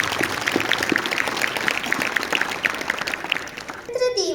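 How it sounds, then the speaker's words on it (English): Audience at a school Republic Day celebration clapping for primary students' action song, a sustained dense round of applause from a crowd, ending as a voice and a microphone sound cut in. "Now give a nice clap to encourage the children."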